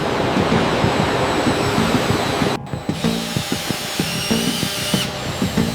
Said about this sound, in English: Boeing 787 Dreamliner wing fastener holes are drilled robotically.